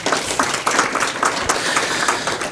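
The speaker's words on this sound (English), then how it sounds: "Let's give them a round of applause." Audience applause at a college radio station hall of fame ceremony, a steady round of clapping from a crowd heard fairly close for a few seconds with no talking over it.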